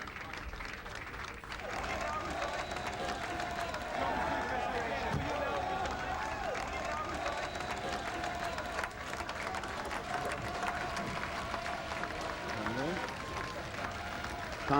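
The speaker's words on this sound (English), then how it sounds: "there's very prolonged applause to Mr. Portillo" Prolonged applause and a low crowd roar for Michael Portillo in the 1997 general election, steady and sustained throughout, with faint voices talking underneath.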